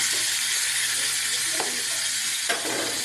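Pork hitting a hot pan in a rural Filipino home kitchen, a steady loud broadband sizzle throughout with a couple of brief crackling bursts, no talking.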